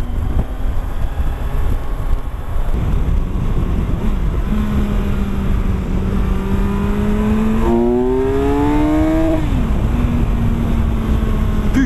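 A Kawasaki Versys 1000 motorcycle engine climbs in pitch through the gears, heard from the rider's position under heavy wind roar that masks much of it.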